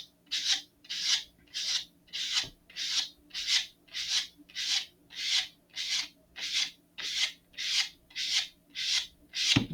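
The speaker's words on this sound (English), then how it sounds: "what I'm going to do is I'm just going to roll the sanding block over the edge" A sanding block rolled over the long edge of a thick balsa fin on an Estes Great Goblin model rocket, a steady rhythm of about a dozen even, raspy strokes, close and alone.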